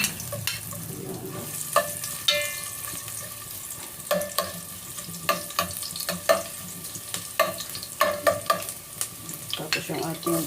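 Ginger sautéing in a pan for arroz caldo, a steady hiss of frying under repeated scraping stirs and clinks of the utensil against the pan, close and busy.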